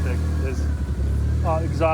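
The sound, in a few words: 4G63-swapped Toyota MR2 engine running, surging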